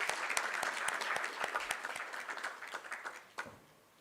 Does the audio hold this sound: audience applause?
yes